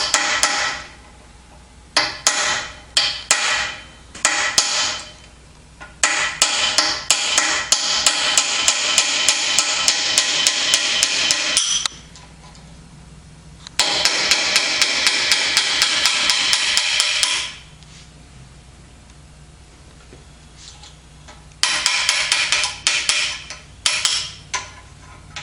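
A round-end pointed punch is hammered against a notch on the lock ring of a 1953-1962 Corvette steering gearbox. Rapid bursts of sharp metallic blows repeat in long runs with short pauses between them, loud and close.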